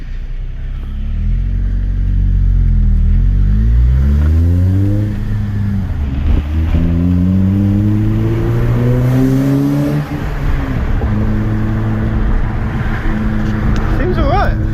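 Honda Civic Type R FN2 engine fitted with a Piper sports cat and manifold, revving loudly and close by with rising and falling pitch sweeps, a steady throaty rumble throughout.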